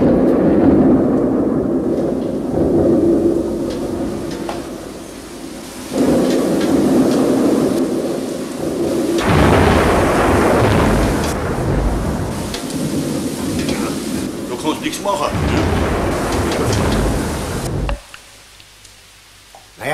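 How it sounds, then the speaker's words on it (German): Steady rain pours down while heavy thunder rolls and rumbles in several long waves, loud and close, before the storm noise drops away suddenly near the end. "Ja, es regnet."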